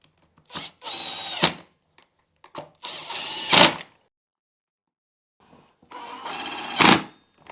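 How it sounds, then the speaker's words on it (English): A power tool drives in the cover bolts on a 62cc Perla Barb chainsaw, three separate bursts of high motor whine, each rising to a tight ending, close and clear with silence between. "Now we can do up those 4 bolts to top the cover there."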